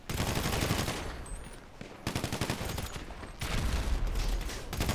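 Gunfire in the online video game GTA V, heard as sustained rapid automatic fire in dense bursts that fill the whole stretch, with brief breaks and heavy low booms, no talk.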